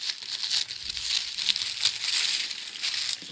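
Pink tissue paper crinkling and crumpling close up while a craft kit is unpacked, a steady dry rustle for a few seconds with small crackly peaks, no talking.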